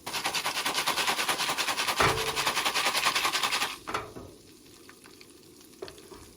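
A Jiffy Pop popcorn pan shaken vigorously over heat gives a dense, steady rattling sizzle for about four seconds, then drops to a quieter crackle with a few faint knocks and scrapes.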